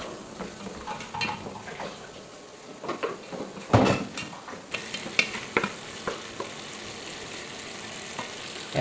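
Food is stirred and fried in a wok, giving a low sizzle with a scattering of metallic scrapes and knocks from the spatula, one louder clatter midway.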